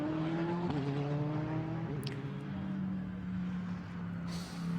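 A GT race car crossing the line during qualifying at the Nürburgring, its engine note a steady tonal drone that shifts pitch as it passes, moderately distant, with no voices.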